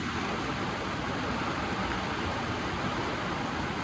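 Steady, dense rain patters on a tent in Western Australian countryside, a continuous soft hiss with no gaps, with no voices over it.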